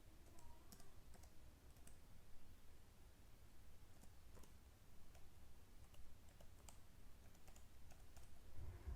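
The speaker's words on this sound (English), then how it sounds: "I'll just type the password here." Password being typed on a computer keyboard at a school report-card sign-in: a steady run of quiet, close key clicks over low room hum for the whole stretch, with no talk.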